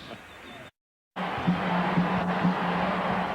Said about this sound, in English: The crowd alive at the Target Center.